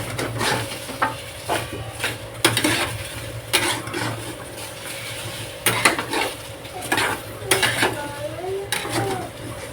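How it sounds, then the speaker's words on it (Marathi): Okra (bhindi) fries in a pan as a spatula scrapes and knocks against the metal in a loose repeating rhythm over a steady low sizzle, close up. "त्यामुळे आपण आधी भेंडी फ्राय करूया."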